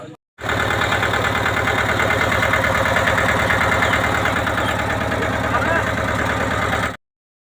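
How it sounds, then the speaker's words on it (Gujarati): A Mahindra mini tractor engine idles steadily and loudly, a constant rumbling drone with slight vibration, starting abruptly and cutting off after several seconds. "પોપટજીએ એક નવીન સાહસ મહિન્દ્રા કંપનીનું મિની ટ્રેક્ટર લાવેલ છે"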